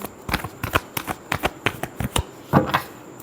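A tarot deck being shuffled up close, with a quick run of crisp riffling card flicks and soft slaps in an uneven rhythm, heard alone with no talking.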